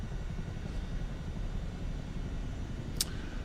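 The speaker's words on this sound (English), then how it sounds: "If you can fly a 21-ton Chinook at ground idle." Chinook tandem-rotor helicopter at ground idle in Microsoft Flight Simulator 2024 at Lord Howe Island, a steady low engine and rotor drone, moderately loud and continuous, with a brief faint click near the end.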